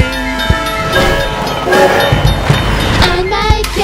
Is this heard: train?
yes